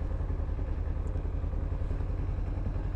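Two motorcycles, a 2006 and a 2008, sit ready for a first ride on the street, with an engine puttering in a steady low, even idle throughout.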